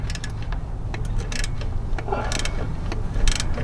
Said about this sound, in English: I'm gonna now try and get it off with this deep socket.